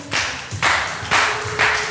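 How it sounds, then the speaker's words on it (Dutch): Children clap their hands and step in time during a lively kids' art and movement session, giving four loud, evenly spaced clap-and-stomp bursts close by with no talking between them. "En nog eventjes klappen en stappen."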